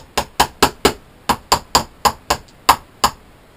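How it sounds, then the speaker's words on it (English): Eleven sharp, evenly spaced hammer blows ring out up close in a small art room, struck at a brisk, slightly uneven rhythm with a brief pause midway. "Excuse the hammer."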